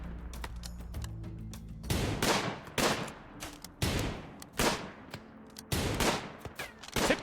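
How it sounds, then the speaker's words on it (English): RimWorld combat with a revolver and other guns firing, a series of loud sharp shots in uneven bursts, each with a short decaying tail, no voices. "Epi's revolver bullet straight through the torso, picking up a kill already."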